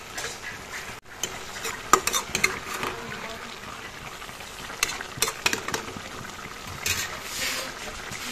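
Fried fish goes into a pan of softened spinach for a fish curry, giving soft stirring scrapes and a faint sizzle, with a few sharp utensil clinks against the pan.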